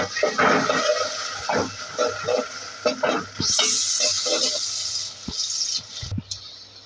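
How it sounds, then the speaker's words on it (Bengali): Onion and garlic fry in a pan for a Malabar spinach curry, with bursts of sizzling broken by repeated scraping and clattering of a spatula as they are stirred up close. "পেঁয়াজ রসুন এখন ভালো করে ভাজবো"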